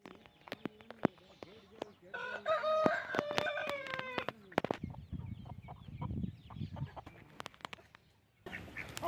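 Chickens in a shed give scattered clucks and squawks, one burst of louder calling standing out, while a person talks nearby.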